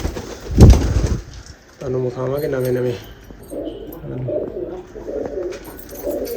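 Ferozpuri pigeons coo nearby in a few soft, rolling phrases, mixed in with someone talking and a thump at the start.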